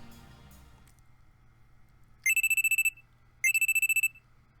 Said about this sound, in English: a loud alarm rings in my ears